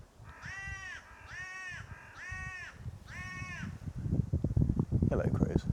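Four loud crows caw in a woodland, evenly spaced over the first few seconds, followed by rustling and low noise nearby.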